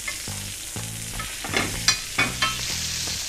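Butter sizzling and frying in a hot pan for cooking steak, a steady close crackle with occasional sharper spits and brief stirring scrapes, no voices.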